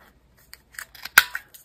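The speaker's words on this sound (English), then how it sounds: "I don't want them quite as wide as that was, so just trimming it." Scissors trim paper labels in a few quick close snips, the sharpest cut landing near the middle of the short sequence.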